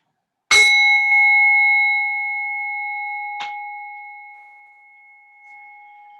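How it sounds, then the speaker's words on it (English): A bell rung to open a restorative yoga session, struck once clearly and then again softly a few seconds later, each strike leaving a long, pure ringing tone that slowly fades in a quiet room. "In a moment, you'll hear the sound of the bell."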